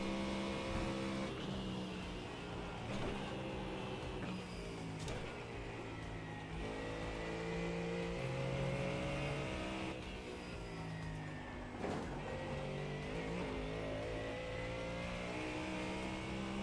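An LMP2 race car engine in a racing video game, droning and revving continuously at high pitch, with gear changes and shifting tones, loud and steady throughout.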